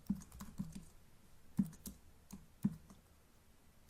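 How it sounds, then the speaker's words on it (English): Computer keyboard typing, with bursts of quick clicking keystrokes separated by short pauses, close and fairly quiet with no talking. "Type out our basic HTML5 document structure."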